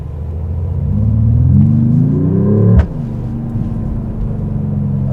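A Mercedes-AMG E53 engine fires up on switching into sport mode, a deep rumbling swell that climbs in revs, then drops abruptly to a steady, loud idle, close by with no voices.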